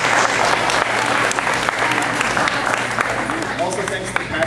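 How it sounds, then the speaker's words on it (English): An audience at a robotics youth event breaks into sustained applause, dense clapping filling the room with a faint voice underneath. "So give yourselves a round of applause."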